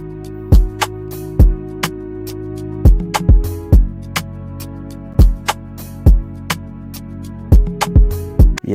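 A cinematic Afro fusion beat built in FL Studio, with strings pulled down low in the verse, sustained and soft beneath a steady pattern of punchy low drum hits and crisp percussion that repeat for several bars, with no voices.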